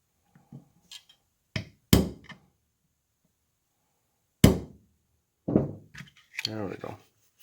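A part of a Crosman DPMS air rifle gets tapped into place during assembly: a few sharp, separate knocks spaced apart in a quiet room, followed by brief low sounds near the end.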